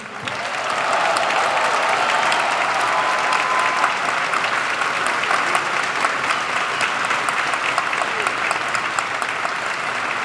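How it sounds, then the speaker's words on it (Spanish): Sustained audience applause at a book presentation, a dense, steady wash of clapping that swells in after a moment and continues loudly for about ten seconds without talk. "quería pedir un aplauso"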